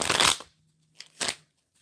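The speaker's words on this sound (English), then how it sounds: "The shuffling feels abrasive." Tarot cards are shuffled in quick riffling bursts, one longer burst followed by two shorter ones, close and crisp with quiet gaps between.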